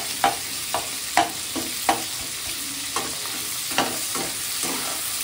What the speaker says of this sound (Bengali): আর সমস্ত উপকরণ একটু ভাজা ভাজা করে নিচ্ছি।